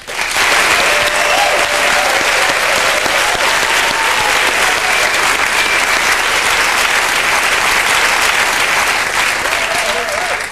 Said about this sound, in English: Well, a great round of applause